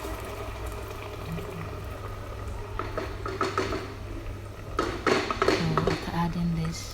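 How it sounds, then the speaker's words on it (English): A blended paste of pepper, onion, garlic and ginger goes into a pot of hot oil for Ghanaian palava sauce, giving a close bubbling sizzle that swells midway and is mixed with clinks of cookware. "So it's now ready for the next ingredient, which is the already blended pepper, onion, garlic, and then ginger"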